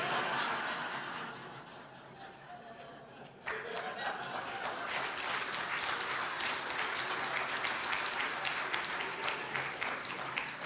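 Church congregation laughs softly, then bursts into a swell of clapping that stays steady and full through the rest of the passage, with chuckles and scattered voices mixed in.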